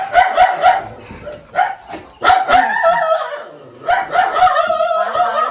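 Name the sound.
dogs barking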